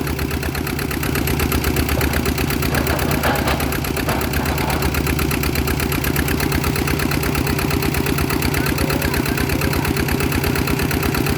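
A Kubota RT110 engine drives a water pump, chugging steadily and loudly up close in a fast, even knocking rhythm that does not change.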